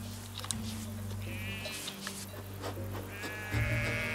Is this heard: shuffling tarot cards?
no